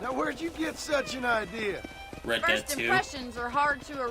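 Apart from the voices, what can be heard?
None of the usual background noises is heard.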